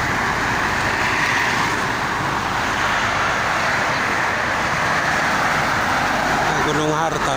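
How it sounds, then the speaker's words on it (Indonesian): Busy traffic on the Jakarta–Cikampek toll road, with buses and cars heading east: a loud, continuous roar of vehicles passing close by, with people talking over it. "Ramai yang arah Cikampek ke timur banyak bis."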